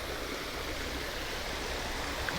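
Water from an ornamental fountain near Sirmione on Lake Garda pours in a steady, broadband rush, a continuous splashing hiss that stays even and fairly close with no talk over it.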